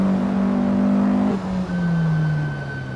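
A race car engine in Assetto Corsa holds a loud, steady tone, briefly dips as the revs drop, then settles into a lower, fading whine, close up with no voices.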